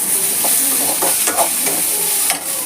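Onions sautéing in a pan for paneer butter masala, a steady broadband sizzle with intermittent stirring scrapes, close and fairly loud, no voices.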